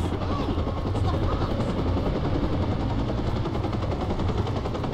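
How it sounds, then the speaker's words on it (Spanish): Helicopter in the Watch Dogs video game, a steady dense rotor and engine drone filling the clip at constant loudness, with possible gunfire-like rattles mixed into the game soundscape. "Allá está el helicóptero, vale."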